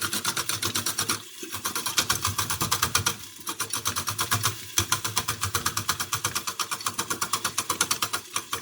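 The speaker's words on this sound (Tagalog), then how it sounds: "this machine is really good to use for taking off the hard part of celery" A kitchen machine strips the hard outer part off celery with a rapid, regular mechanical chatter, loud and close, with brief pauses between runs.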